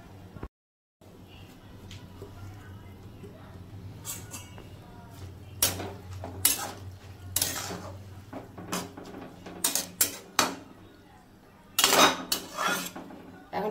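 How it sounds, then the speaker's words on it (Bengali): Chopped banana flower is tipped into a cooking pot to boil, with scattered clanks and clatters of metal cookware and utensils. Bursts of close clattering stand over a low kitchen background. "এখন দিয়ে দেবো মোচাটা, সেদ্ধ করতে বসিয়ে দিলাম।"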